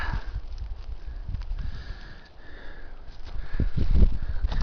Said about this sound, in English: Try to do the old sniff test, see if that yields any.